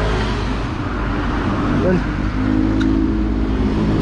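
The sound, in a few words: Suzuki Smash 115 motorcycle engine running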